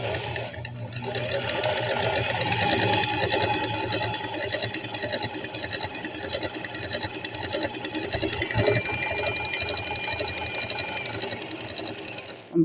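Domestic sewing machine fitted with an overlock presser foot stitching and trimming fabric, a continuous rapid rhythmic clatter that runs steadily throughout at close range, with faint talk in the background.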